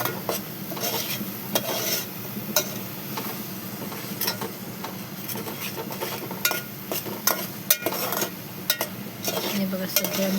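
A spoon stirs turmeric and salt into biryani masala in a pot, scraping and clinking against the metal in irregular strokes over a soft steady sizzle, close and clear with no talk.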